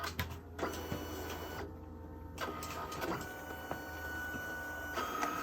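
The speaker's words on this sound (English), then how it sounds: "We're going to see it printing the cyan or the yellow, and the yellow will be first." A Leone Pixcut S1 sticker printer laying down its yellow colour layer, giving a steady mechanical whir with intermittent clicks and carriage movements, fairly quiet and close, no voices.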